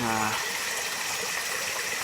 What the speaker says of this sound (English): there's a tap here that I use to fill my bottles